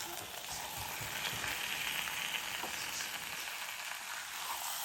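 Chicken sizzling as it fries in a pan of cooked masala, a steady close hiss and crackle with faint stirring, no voices.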